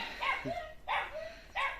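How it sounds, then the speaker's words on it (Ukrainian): A neighbour's small dog barks three times in a garden where grapes are being picked, clear yips with a slight whine, moderately distant over quiet outdoor background. "так сусідська собачка нам сопровождення устроює"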